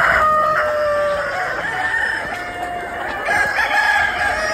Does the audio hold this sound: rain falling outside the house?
no